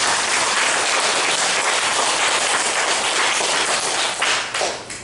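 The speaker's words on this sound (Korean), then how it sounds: "아름다운 모습으로 지금도 선두에 서 계신 참 어머님을 위해서 박수 보내드리겠습니다" Audience applause at a Korean church gathering honoring a revered mother figure, dense sustained clapping filling the space, loud and steady before tapering slightly at the end.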